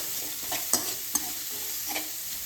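Onion sautés in a pan with a soft, continuous sizzle, broken by a few brief spoon scrapes and taps while it is stirred, close by and quiet.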